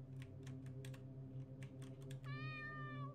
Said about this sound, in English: Well, there's a cat there.